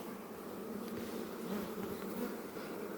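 Honey bees buzzing around an opened, agitated beehive with honey-filled comb, a steady, dense drone close by that holds throughout with no voices.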